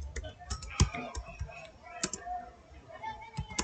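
Computer keyboard typing, quiet irregular clicks of keys tapped in short bursts at close range, with faint speech mixed in.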